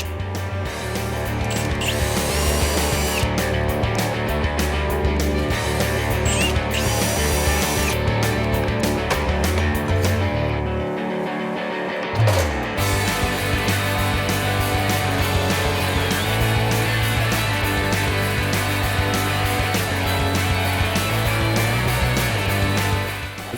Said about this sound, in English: so Al attaches a die grinding bit to the drill and removes the excess plastic